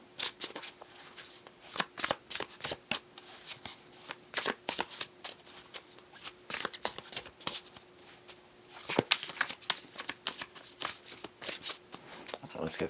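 A deck of cards is shuffled by hand in quick bursts of crisp riffling and snapping, close and clear, with short pauses between passes.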